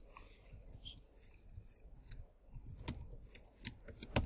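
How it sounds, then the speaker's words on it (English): Quiet clicking keystrokes as a password is typed on a computer keyboard, irregular soft taps with a slightly louder click at the end, close and faint. "typing the password"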